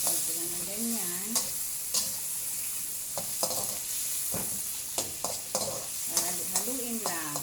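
Fried tilapia being stirred in a hot pan for a sautéed alugbati dish, a steady sizzle with repeated scraping strokes of a utensil across the pan, close and clear with no talk.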